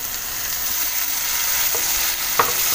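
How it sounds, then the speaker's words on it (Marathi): Onion and tomato sautéing with red chilli masala in a pan for a farsan dish, a steady close sizzle with a few soft spoon scrapes, no voices. "थोडंसं जरा परतून घेऊया"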